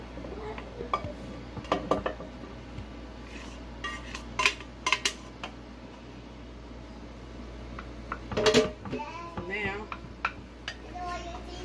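Cooked, drained chili meat is moved into a crock pot with scattered clinks and scrapes of a utensil against pots and dishes, close and irregular in a quiet kitchen.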